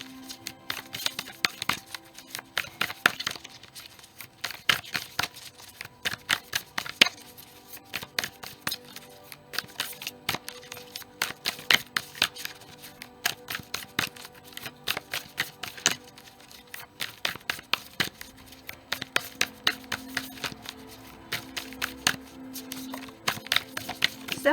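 A Wild Offering oracle card deck is shuffled by hand during a tarot reading, steady soft riffling and flicking clicks running continuously, fairly quiet and close.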